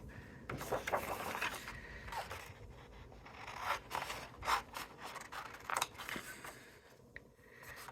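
Scissors cutting card along a template line, a soft series of rasping snips and rubbing strokes, close but faint, irregular and spaced out over several seconds.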